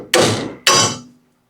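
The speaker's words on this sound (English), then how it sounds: "I'm going to smack this with the mini sledge and see if this will pop out" Two heavy strikes from a mini sledge hammer on the sway bar end link of an 11th-generation Ford F150, about half a second apart. Each is a loud, close metallic whack that rings out briefly.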